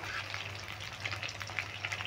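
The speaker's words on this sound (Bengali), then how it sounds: "দেখো এইভাবে নেড়ে চেড়ে কিন্তু মুচমুচে করে ভাজতে হবে" Soybean pakoras deep frying in hot oil while being stirred, a steady crackling sizzle with brief scraping bursts, close and continuous with no voices.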